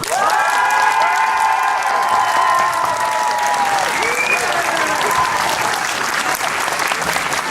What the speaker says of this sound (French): Qui veut voter pour les Mandragores? Vous applaudissez maintenant.